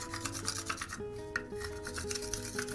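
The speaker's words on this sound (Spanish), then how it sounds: "ya lijado, se alisa con una piedrita de río" Wet canelo clay pottery being smoothed by hand with a small river stone, giving a steady close scraping rasp with repeated rhythmic strokes and no voices.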